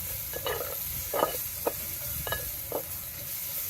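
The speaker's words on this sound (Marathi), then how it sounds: "त्याला हलवून घ्यायचं असं" Turmeric and spices are stirred in a pot for a mutton curry, several soft scraping strokes of a spoon over a quiet background sizzle, close and fairly faint.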